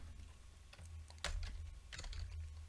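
Quiet typing on a computer keyboard while writing React code, a scattered run of soft key clicks with a few louder strokes, close by and without speech.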